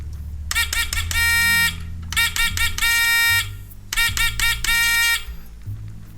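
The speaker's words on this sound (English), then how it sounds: "In Morse code, sounds like this." Morse code for the letter V, the opening rhythm of Beethoven's 5th Symphony: three short beeps and one long tone, repeated three times, loud and bright over a low background hum.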